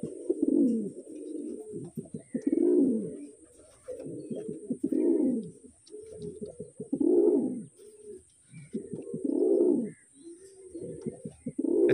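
Two pairs of Andhra pigeons coo in a repeated rhythmic pattern, roughly a call every second or two, loud and close with short pauses between phrases and a faint high electrical whine behind.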